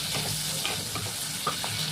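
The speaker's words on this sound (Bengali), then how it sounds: "মানে এর মধ্যে চিংড়িটা আমি একটু হালকা আগে ভেজে নিই।" Shrimp frying in oil in a kadai, a steady close sizzle with a few soft stirring clinks and scrapes scattered through.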